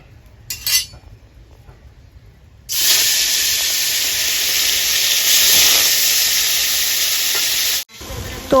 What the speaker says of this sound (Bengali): মা সুন্দরভাবে মাছগুলো ভেজে নিচ্ছে, দেখো উল্টিয়ে পাল্টিয়ে